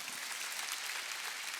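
Congregation applauding during a Sunday worship service at a Korean church, a brief, even burst of many hands clapping, somewhat distant and soft, with no voice over it.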